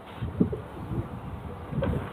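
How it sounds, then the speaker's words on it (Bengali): A racing pigeon held in the hand coos softly and close, a few low throaty coos spread across a couple of seconds against a faint background hum. "এত মানে অ্যাক্টিভ পায়রা হাতেই ইয়ে করছে দেখতে হাতেই ডাকছে পায়রা"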